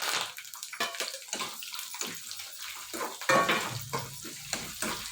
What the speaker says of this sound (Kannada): ಇದನ್ನ ಸ್ವಲ್ಪ ಚೆನ್ನಾಗಿ ಹುರ್ಕೊಳ್ಳೋಣ